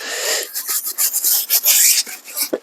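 A brush scrubbing a tyre coated with Armor All wheel and tyre cleaner, a close continuous rasping scrub in short back-and-forth strokes, with no talking.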